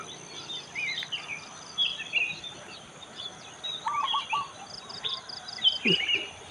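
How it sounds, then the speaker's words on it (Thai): Small birds chirp and tweet intermittently in the distance over a quiet, steady morning outdoor ambience in rural Chae Hom, Lampang, Thailand. "เสียงนกร้องจุ๊บจิ๊บจุ๊บจิ๊บธรรมชาติชนบท"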